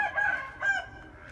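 A rooster crows in a backyard coop among hens, two short strained calls heard fairly close and alone.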